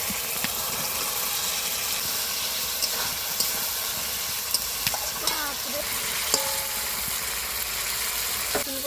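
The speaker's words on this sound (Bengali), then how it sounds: "ফুলকপি আলু ডিমটা ভালো করে কষানো হয়ে গেছে" Cauliflower, potatoes and eggs stir-fried in a spice paste with ginger, giving a steady close sizzle with scraping stir strokes and occasional utensil clinks throughout.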